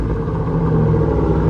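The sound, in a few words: 1987 Chevy C10 engine cold revving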